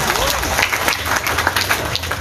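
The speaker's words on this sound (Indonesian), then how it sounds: "Tepuk tangan dulu dengan suksesnya Polres." An audience at a Polres Samosir Bhayangkara anniversary celebration breaks into dense, sustained applause, many hands clapping together steadily, loud and close, with a faint voice mixed in.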